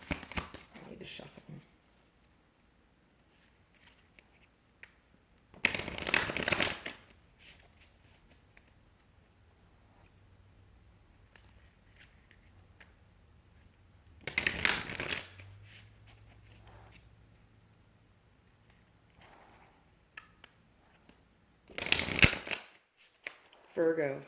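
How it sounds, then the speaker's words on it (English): A deck of tarot cards is riffled and shuffled in three separate bursts of dense, papery fluttering a few seconds each, spaced apart by long quiet stretches with a low hum and soft handling sounds. "I need to shuffle."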